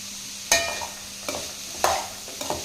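Spiced peas sundal stirred in a pan, four separate scraping strokes of a spoon against the pan, spaced irregularly over a faint steady background hum.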